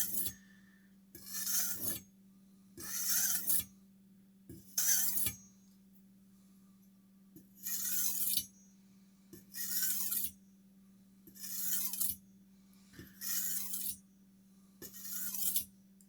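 A knife is drawn across an 8000 grit whetstone in eight separate strokes, each a short raspy hiss with pauses of quiet between them, close and fairly soft.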